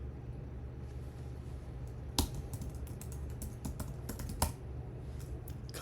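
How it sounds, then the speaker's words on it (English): Typing on a computer keyboard while setting up a C# .NET console project, heard as sparse, irregular clicks and taps with two sharper, louder keystrokes standing out over a steady low hum, without any talking. "Typing while people watch is always way, way harder."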